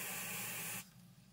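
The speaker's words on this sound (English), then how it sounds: "So I'm going to spray the one on the left." A short hissing burst of aerosol spray onto an optical coupler inside a vintage Robertson Audio Forty Ten power amplifier, steady for under a second, then cutting off to faint background noise.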